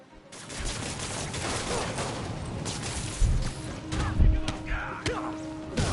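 Gunfire in a Spider-Man video game comes in dense bursts of shots and impacts, with heavy thumps and crashes in a busy, loud mix.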